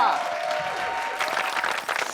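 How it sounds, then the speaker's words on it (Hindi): Audience applause at a village talent hunt final round, a steady wash of many hands clapping throughout, moderately loud and continuous with a slight swell in the second half. "तालियां।"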